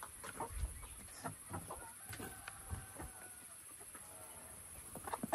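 Rhode Island Red ready-to-lay hens cluck softly in a free-range farm pen, with scattered low calls over a quiet background hiss.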